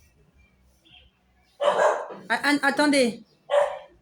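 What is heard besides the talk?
dog barking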